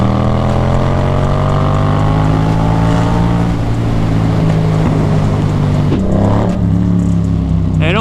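A motorcycle engine roars steadily and close through a ride in narrow little streets, a loud continuous drone that rises in pitch near the end as the rider revs it.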